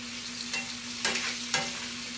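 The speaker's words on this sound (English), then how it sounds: "let's stir that up just a little bit" Turnip green soup ingredients frying in olive oil as they are stirred, a low steady sizzle broken by three sharp scrapes of a spoon against the pot.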